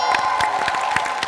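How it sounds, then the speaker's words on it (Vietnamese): An audience bursts into loud applause and cheering for the children at the final night of a Vietnamese family challenge show, with rapid clapping, whoops and crowd noise throughout. "có thể cho các bé một tràng pháo tay thật lớn được không ạ"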